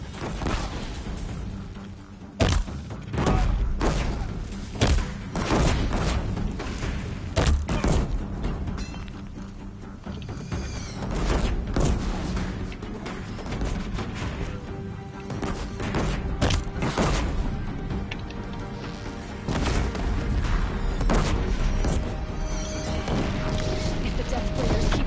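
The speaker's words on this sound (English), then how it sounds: "Throw a few bombs." Bombs exploding in the video game Horizon Zero Dawn on Very Hard Mode: repeated booms and crashing impacts hit throughout, alongside steady game noise and someone talking over them.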